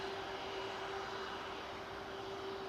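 An Airbus A330 airliner taxis at Manchester Airport, giving a steady, continuous engine whine and broadband roar with a sustained tone, heard at a distance and without pause.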